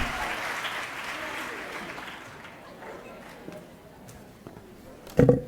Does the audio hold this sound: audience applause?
yes